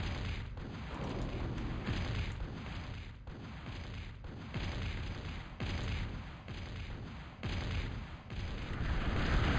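Leveler artillery unit firing in a real-time strategy game, a dense roar of rapid booming shots rolling on continuously without a break, loud and close.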